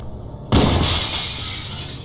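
Glass breaks in Halo: Combat Evolved, a sudden loud shatter followed by a bright, lingering crackle of falling shards over game ambience.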